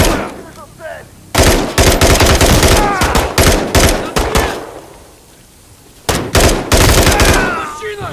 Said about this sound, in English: Return fire!